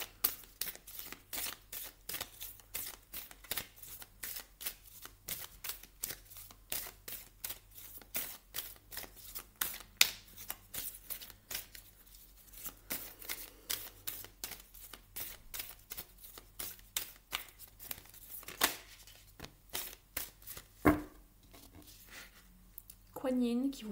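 Oracle cards from a deck of gods, goddesses and guardians being shuffled by hand, a rapid, steady run of close crisp riffles and flicks lasting the whole stretch, with a few louder taps near the end.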